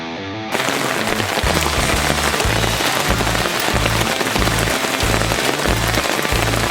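Heavy rain from a rainstorm pours down near a lake during salmon fishing, making a loud, dense, constant hiss with a low rhythmic patter underneath.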